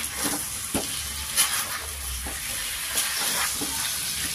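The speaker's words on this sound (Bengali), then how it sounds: "আলুটা ভালো করে ফ্রাই করে নেব।" Large chunks of potato fry in hot oil with a steady soft sizzle and hiss, broken by occasional stirring scrapes and clinks.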